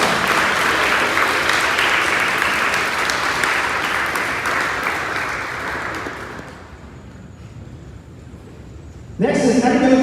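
A crowd at an 8th-grade awards ceremony applauds, a dense wash of clapping that fades out over about seven seconds, followed by brief quiet and then a voice starting to speak.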